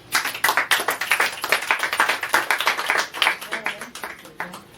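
Church congregation clapping loudly together in quick, rhythmic unison, with faint acclaiming voices mixed under the dense clapping.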